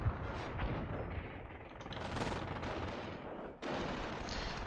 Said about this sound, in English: That's a lot of MGs.